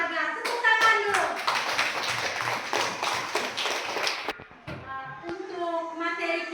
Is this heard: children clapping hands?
yes